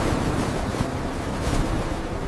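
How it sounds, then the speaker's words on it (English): Strong wind gusts and crashing surf at a beach, a steady broadband roar with buffeting wind noise on the microphone, loud and continuous with no talking. "Oh, wow! The wind is very strong suddenly."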